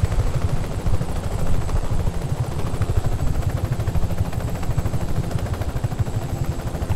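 A helicopter in Just Cause 3 roars loud and close with a continuous rotor thrum and rhythmic low pulsing, heard alone with no talk.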